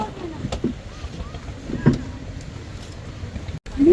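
A wooden trawler on a river in Bangladesh rumbles at a low, steady level under wind noise, with a few scattered knocks and faint voices in the background.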